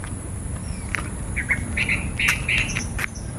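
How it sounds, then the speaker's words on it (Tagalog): Many birds chirp and call in the leafy grounds of the Laurel Mansion in Calamba, with short bright calls clustering over a steady low outdoor rumble. "Daming ibon."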